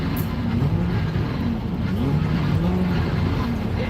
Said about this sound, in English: let me just hear what that exhaust sounds like